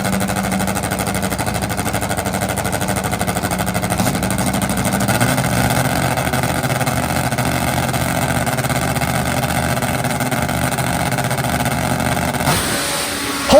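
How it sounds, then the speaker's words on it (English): A powerful engine roars loudly and continuously as a nitro-burning Top Fuel drag motorcycle tears down the drag strip at over 200 mph, its howl steady before cutting off near the end. "When you go 200 plus miles an hour on a nitro-burning motorcycle, anything can happen."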